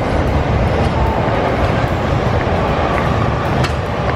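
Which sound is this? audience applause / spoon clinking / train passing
train passing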